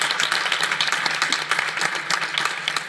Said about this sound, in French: Et on peut applaudir nos panélistes aussi.